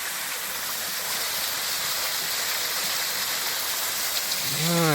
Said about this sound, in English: I like the way that's splashing off there.